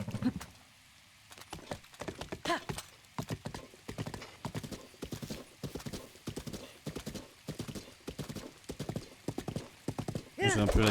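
A horse gallops in Zelda: Breath of the Wild, with rapid, rhythmic hoofbeats close by and steady throughout, then a short whinny at the end.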